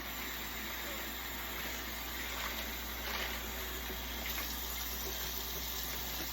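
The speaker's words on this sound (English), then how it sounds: "Helps if I turn on the cold water." Steady broadband rush of cold water pouring from a kitchen tap, continuous and close, with no pauses over the whole stretch.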